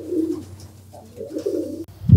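Pigeons in a breeding loft give close, loud throaty coos in two bursts, ending with a short rustle or bump.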